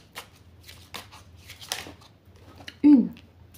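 Tarot cards are drawn and handled in a series of quick, soft shuffling and sliding flicks, with a short burst of a voice near the end.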